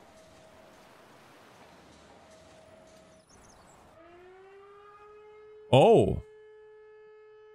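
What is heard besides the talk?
alert siren in a video game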